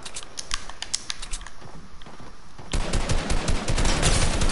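Rapid gunfire from a shooter video game, bursts of sharp shots that grow louder and denser partway through, with dense overlapping reports near the end.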